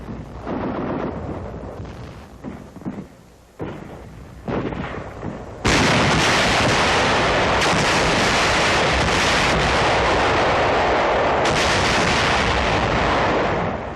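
Satchel charges blast a cave section during the 1945 battle for Okinawa, with several heavy rumbling booms followed by a huge, sustained roaring explosion that fills the rest of the clip loudly.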